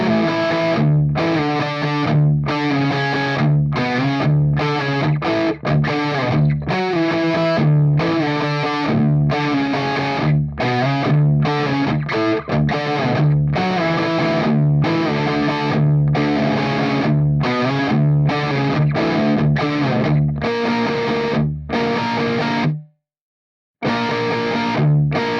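Heavily distorted electric guitar chugging through the breakdown riff of a song, with choppy muted stops between hits and a short silent gap near the end, loud and alone.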